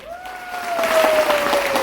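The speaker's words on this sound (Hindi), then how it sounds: "एक बार जोरदार तालियां" A large audience gives loud applause at an RCM zonal celebration event in Guwahati, the clapping swelling in over a held sustained tone and continuing densely to the end.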